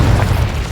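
Incendio fire spell blast in the Hogwarts Legacy video game, a loud, dense low-pitched roaring burst that sustains steadily for under a second with no voices over it.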